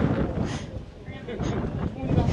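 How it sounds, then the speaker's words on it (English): Wind gusts roar across the microphone atop the Kuwohi mountain-top observation tower, producing a continuous, fluctuating low rumble with no speech. "And wow, it is very windy once you get up here."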